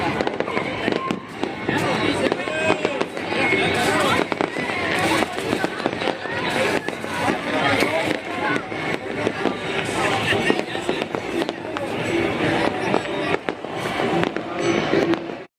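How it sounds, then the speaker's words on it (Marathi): A rapid, continuous barrage of firecracker shot bangs and crackling bursts during Uttarayan celebrations in Ahmedabad, loud and close, with faint voices underneath throughout. "आता फटाके फोडत आहेत, शॉट लावले आहेत."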